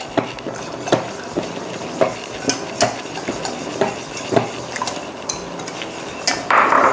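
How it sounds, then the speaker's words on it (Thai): Turmeric and coconut milk salad dressing whisked in a bowl for a Thai-style salad, with a steady run of utensil taps and scrapes against the bowl over several seconds. No voices are heard. "ตีผสมให้ทุกอย่างเข้ากัน"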